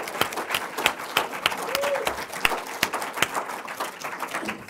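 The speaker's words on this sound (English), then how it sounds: "we owe you all uh, a round of applause for that" A small audience at a talk gives a round of applause, sparse, fairly quiet clapping with individual hand claps standing out, heard at a modest distance for several seconds.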